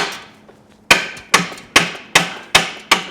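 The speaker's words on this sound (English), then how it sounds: "We're going to hammer the track, literally hammer it with a heavy hammer" After a brief quiet moment, a heavy hammer bangs on a Mercedes W123 metal driver seat track six times in a steady rhythm, each blow loud, close and ringing briefly.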